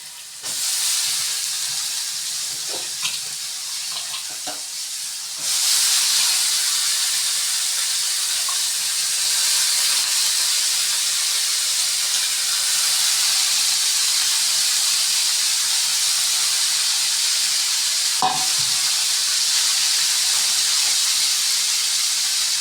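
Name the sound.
sautéing broad beans with coriander and curry leaves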